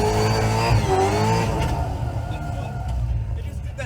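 A drift car on a touge mountain road squeals its tires while the engine roars nearby, a loud sustained screech that fades slightly toward the end.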